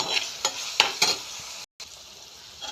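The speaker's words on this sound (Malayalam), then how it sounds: "ഇനി നമുക്ക് നന്നായിട്ട് ഒന്ന് വഴറ്റിയെടുക്കാം. നന്നായിട്ടൊന്ന് ഇളക്കി കൊടുക്കാം." Masala ingredients sauté in a pan as a spoon stirs them, sending several quick scraping strokes over a soft sizzle, close and clear, with a brief dropout in the middle.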